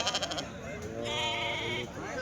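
A sheep at a weekly sheep and ram market in Kadiri lets out a single wavering bleat, close by, right after a brief burst of voices.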